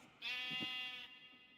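A sheep bleats once in a Minecraft modpack game, a single wavering nasal cry lasting close to a second, faint and heard alone.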